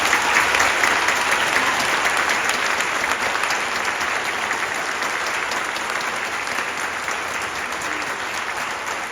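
Sustained audience applause fills a school spring band concert, dense and steady clapping from a large crowd throughout, slowly tapering near the end.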